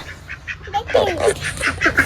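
A village duck quacks in repeated nasal bursts close by, a busy run of honking calls with a voice talking over part of it.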